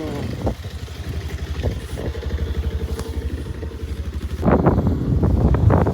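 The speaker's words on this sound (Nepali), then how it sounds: "हामी बाइकमा जाँदैछौँ।" A motorcycle engine runs steadily at a low, throbbing pitch through a ride on a mountain route in Nepal, with a few clattering knocks and a louder surge of revving near the end; no one speaks.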